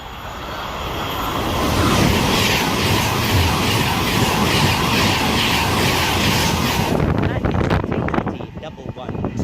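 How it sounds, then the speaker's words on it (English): Pendolino passenger train passing through Nuneaton station on the West Coast Main Line, a loud sustained rushing roar that builds over two seconds, holds steadily, then breaks up near the end, with voices talking beneath it. "now getting ready to pass through is a Pendolino"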